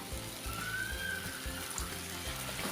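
Masala grinding water poured into a frying pan of ripe mango curry, a sharp splash and sizzle with bubbling water sounds close up over a couple of seconds.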